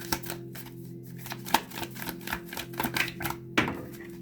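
Tarot cards are shuffled by hand in a quick, irregular series of soft riffling flicks and taps, close and fairly quiet, with a couple of sharper snaps along the way.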